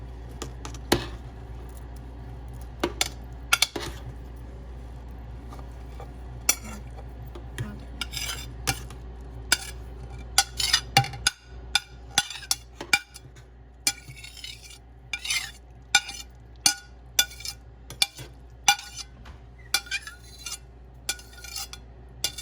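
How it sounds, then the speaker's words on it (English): Cooked ground beef is stirred into a pot of cheeseburger soup with a spoon, giving soft repeated scraping and clinking against the pot, close and fairly quiet, with more frequent knocks later. "So next we're going to stir in the cooked ground beef."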